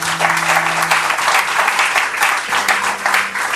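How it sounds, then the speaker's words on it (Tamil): Audience at a hospital event in Tharamani, where free smartphones are handed out to blind people, gives sustained, loud applause, with a faint hum of voices underneath. "அவங்களுக்கும் உங்களுடைய கரகோஷத்தை கொடுக்கணும்"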